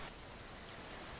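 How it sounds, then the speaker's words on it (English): Rain falls in Thailand as a faint, even patter-hiss, steady and without a break. "Here comes the rain, though."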